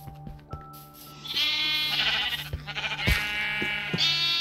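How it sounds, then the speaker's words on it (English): Several sheep bleat loudly and repeatedly, overlapping in a noisy chorus, with game-like sound effects and short clicks underneath. "we've got lots of sheep. It is very noisy"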